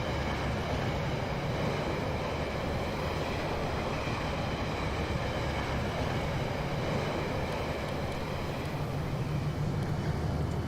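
A train in the model railway video game Rolling Line rolling along its track around a bend, a steady rumbling clatter with faint wheel rhythm, even and continuous with no talk.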